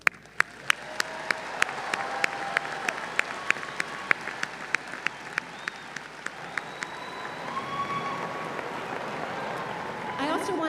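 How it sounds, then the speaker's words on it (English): Graduation commencement ceremony audience applauding, a steady, distant wash of clapping throughout, with sharp, regular clicks or taps punctuating it and faint voices mixed in. "One more round of applause."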